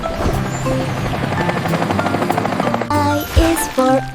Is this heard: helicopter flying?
yes